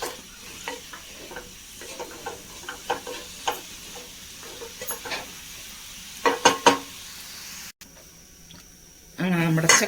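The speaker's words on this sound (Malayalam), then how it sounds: "ഇനി നമുക്ക് ചക്കക്കുരും കൂടി മിക്സ് ചെയ്തതിന് ശേഷം ഒരു 2 മിനിറ്റ് ഒന്ന് വെക്കാം." Jackfruit seeds and amaranth greens are stirred in a pan for a stir-fry, with a soft sizzle and repeated scraping strokes of the spoon close by, followed by a brief pause and a voice at the end.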